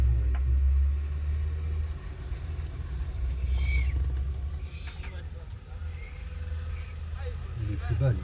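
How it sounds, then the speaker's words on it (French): A truck rumbles slowly through a flooded road, its low engine drone steady and fairly close throughout, with people talking over it. "Il y a un camion qui va y aller."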